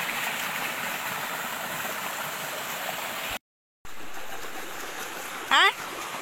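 A cold mountain creek beside a hillside farm plot in the countryside rushes in a steady, close wash of water. The flow breaks off for a moment, then a short, sharp chirp rises near the end.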